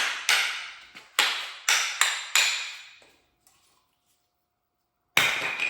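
Brake pads are knocked into the caliper anchors on a 2016-2021 Hyundai Tucson front brake job: five sharp metallic taps in quick succession, then a pause and one more loud knock, close and ringing.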